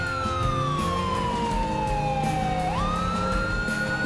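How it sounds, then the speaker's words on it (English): A continuous wailing police siren in GTA 5 sweeping slowly down and then back up in pitch, loud and close over a steady engine drone. "Turn my sirens on."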